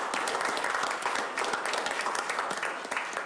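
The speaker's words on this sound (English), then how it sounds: "I'll give you a round of applause." Steady applause from a room of people at a government business meeting, honoring students from a class, with dense continuous clapping at moderate distance.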